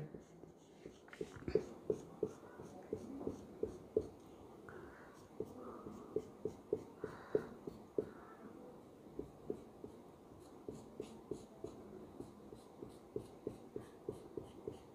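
A pencil scratches rapid, evenly spaced hatching strokes on paper, shading a steel beam-to-beam connection drawing; dozens of short crisp strokes repeat in a steady rhythm, close and fairly quiet, with faint murmuring in the background.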